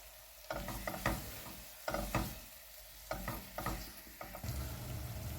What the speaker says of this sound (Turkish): Biraz da havucu kavuralım.